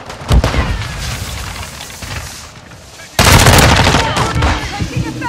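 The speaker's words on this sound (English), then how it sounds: "Taking effective fire!" Gunfire in a video game: rapid bursts of automatic weapon fire with sharp cracks and booms, one burst early, then a sustained, louder volley in the second half, with a voice calling out amid the shooting.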